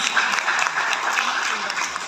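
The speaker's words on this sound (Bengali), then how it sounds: "আমাদের হালোঘাটের পক্ষ থেকে তার জন্য একটা হাততালি" Audience applause rings out for the speaker's mother at a memorial gathering and book launch in Haluaghat: a dense, steady wash of many hands clapping, moderately loud and sustained for about two seconds with no pauses.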